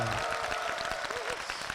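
An audience in a large church sanctuary claps during a broadcast church program, the applause a dense patter of hand claps mixed with a sustained voice or tone over it.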